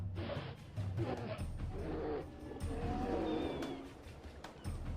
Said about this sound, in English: Their roars warn intruders to back off or prepare for battle.